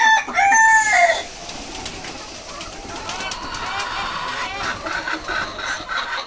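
A rooster crows loudly at the start, followed by hill-breed hens clucking and chattering amid general barnyard noise.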